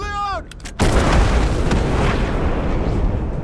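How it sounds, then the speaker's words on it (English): A loud explosion bursts out in an action movie scene after aircraft wreckage is found, a sharp blast followed by a sustained roaring rumble that fills the rest of the moment. "The moment he heard the explosion,"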